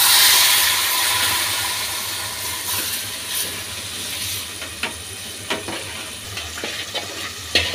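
Leafy greens hit hot oil with browned garlic and onion, giving a loud initial hiss that settles into a steady close sizzle with intermittent sharp crackles and stirring clicks, no voices.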